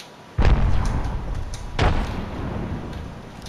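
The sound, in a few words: grenade explosion in Apex Legends video game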